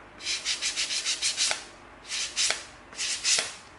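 220-grit sandpaper rubs briskly against EVA foam in quick back-and-forth strokes, a fast burst of rasping followed by a few slower, separated passes.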